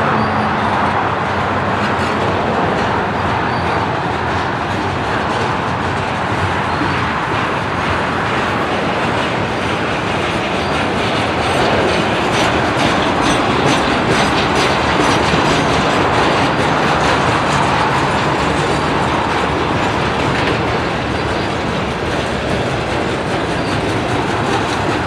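A Norfolk Southern eastbound intermodal freight train leaving Cove, Pennsylvania rolls past close by, a loud, steady roar of wheels with rhythmic clickety-clack of cars, continuous and unbroken, with no talking.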